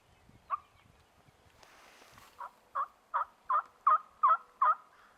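Wild turkeys gobbling in the woods at about 75 yards: a single gobble, a burst of rustling, then a rapid run of six or seven loud, clear gobbles in close succession, with no talk.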